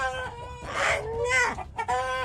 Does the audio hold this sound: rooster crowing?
yes